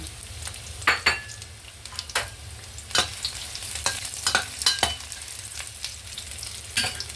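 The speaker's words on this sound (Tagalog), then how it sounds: "Maglagay na natin ang ating sibuyas at ang ating bawang. Ayan, halo-haloin lang natin yan." Onion and garlic frying in oil in a pan, steady sizzle broken by repeated scraping stirs of a spatula, close and fairly loud, no talk.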